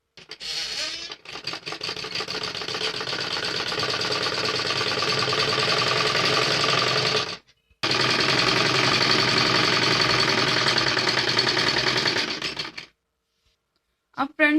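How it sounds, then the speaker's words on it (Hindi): Sewing machine stitching along the folded edge of a heavy Patiala salwar fabric, a loud, close, continuous rattling whir that runs in two long bursts separated by a brief pause, then stops. "अब हम यहाँ किनारी पर सिलाई लगाएंगे"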